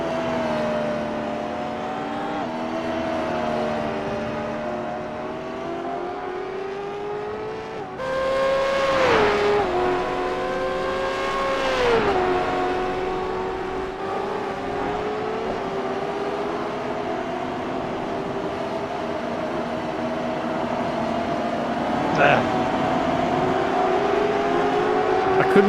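Race car engines from the iRacing simulator drone and rev while cars sit in the pits, with steady sustained tones that rise and dip. Two brief sharper revs break the drone midway, and a faint voice is audible underneath.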